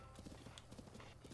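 A horse's hooves clip-clop in quick, even beats in Zelda: Breath of the Wild, faint and steady over a soft game background.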